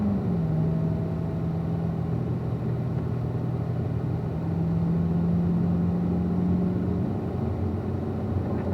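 A car on a racetrack accelerates and shifts up into fourth gear, a steady engine drone with a rising tonal whine, close and constant, with no talk over it.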